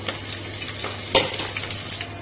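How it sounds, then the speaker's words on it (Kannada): Chopped onion frying in a pan with lentils and curry leaves until reddish, a steady low sizzle with a few scraping stirs and one sharper clink of a utensil midway, nobody talking. "ಈರುಳ್ಳಿಯನ್ನು ಹಾಕಿದ್ದೇನೆ ಇಲ್ಲಿ ಕೆಂಪದಾಗೋ ತನಕ ನಾವಿಲ್ಲಿ ಫ್ರೈ ಮಾಡಬೇಕು"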